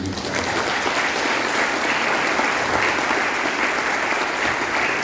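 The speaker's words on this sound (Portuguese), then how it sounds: "Palmas para Jesus" A church congregation claps for Jesus during a communion service, a sustained, loud, dense round of applause filling the whole stretch.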